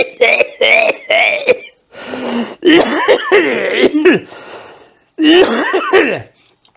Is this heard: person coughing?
yes